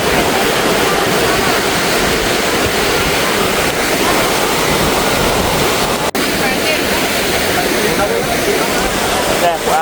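Sea waves rushing at a seashore where camels stand, a loud, continuous broadband roar with wind buffeting, steady for about ten seconds with one brief click.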